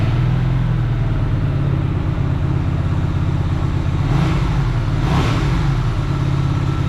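Hyosung GV250 motorcycle engine running at a loud, close, steady rumble with a slight rise in revs partway through, no voices over it.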